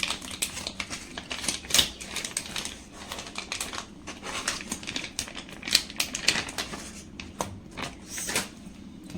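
A knife cuts through 200 grams of fresh paneer, giving a steady run of quick, crisp taps and clicks close by. No one speaks.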